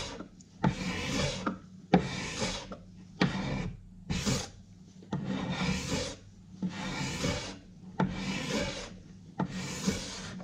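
An abrasive pad or block works along the grain of an oak window sill in long, steady rubbing strokes, around eight repeated passes with short pauses between them, close and even, with no talking.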